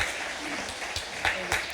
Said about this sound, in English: So let's give a round of applause and a little Navy woo-woo for Chris Farley.